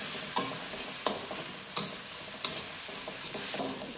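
A spoonful of ginger paste fries in a pan while cooking pangas fish with eggplant, making a continuous sizzle broken by several sharp spoon taps and stirring scrapes, close and alone.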